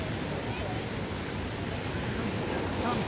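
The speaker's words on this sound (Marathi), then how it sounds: "मस्त धबधबा आहे, मंदिराच्या मागच आहे" Broadband rushing roar of a waterfall behind a Shiva temple at Kamshet, steady and close, filling the whole moment with constant white-noise wash and a light background of voices.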